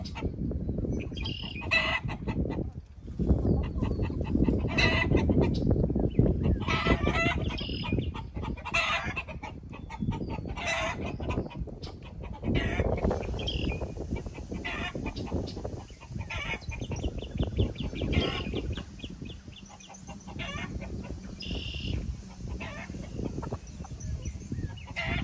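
Backyard hens and roosters cluck and squawk in bursts, close and moderately loud, with busy flock chatter throughout and occasional sharper calls as hens try to get away from the roosters.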